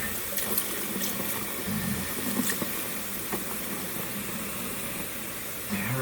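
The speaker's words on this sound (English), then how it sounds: "Alright, I'm adding more vinegar." Vinegar being poured into a toilet water tank, a steady close splashing, trickling flow of liquid that runs almost unbroken throughout, with a brief louder gush near the end.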